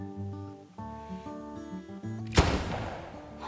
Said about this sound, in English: I'm gonna go ahead and shoot this kangaroo